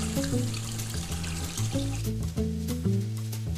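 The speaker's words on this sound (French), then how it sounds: "Prune, est-ce que tu veux bien mettre les raisins secs à tremper dans un bol d'eau froide?" Cold water runs steadily into a bowl to soak raisins in a kitchen, a continuous pouring rush with a tuneful music bed underneath.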